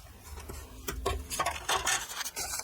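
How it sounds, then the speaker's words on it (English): A paper file folder being folded along score lines and burnished flat, giving soft, close rubbing and scraping strokes with light crinkling, quiet and alone over a few seconds. "now we can fold and burnish those score lines"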